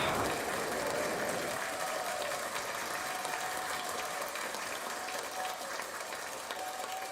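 An audience claps in a sustained, fairly loud burst that fills the room and holds steady from start to finish, with no voices rising above it.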